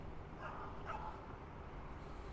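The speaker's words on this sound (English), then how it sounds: "there's barking dogs" A dog on a street in South Shields, a seaside town in England, gives a couple of faint, distant barks that come through soft background noise.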